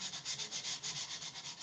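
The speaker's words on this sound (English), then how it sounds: "what I should do is stop and go this way with the sandpaper" Hand sanding of wood with sandpaper, an even back-and-forth rubbing hiss repeating in quick steady strokes close up, with no voices.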